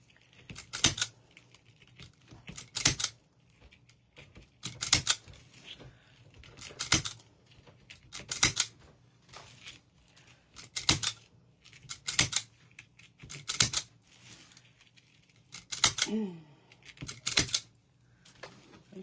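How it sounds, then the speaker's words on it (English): A zip tie tool snips off zip ties on a small wooden board during work on a bear sunflower fall wreath, giving sharp, crisp clicks roughly every one and a half to two seconds, close and otherwise quiet. "I'm just gonna clip those off using my zip tie tool."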